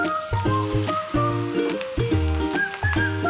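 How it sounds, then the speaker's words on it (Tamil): Steady sizzling and bubbling of battered okra pakoda frying in hot oil, loud and close, with crackles and small pops throughout. "எண்ணெய் காஞ்சிருச்சு இப்போ நம்ம வெண்டைக்காய் போட்டு பொரிச்சிடலாம்"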